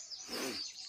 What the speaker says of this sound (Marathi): सकाळी मस्त गोड वातावरण आहे पक्ष्यांचा किलबिलाटसुद्धा तुम्हाला आवाज ऐकू येतो आहे